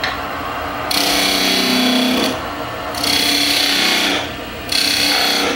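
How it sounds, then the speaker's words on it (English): A skew chisel cuts into spinning wood on a lathe, giving a close, loud scraping hiss in three sustained passes separated by short pauses where the lathe hums alone. "I'm going to come in with my skew again, and I'm going to very carefully come in and just remove that foot at a bit of an angle."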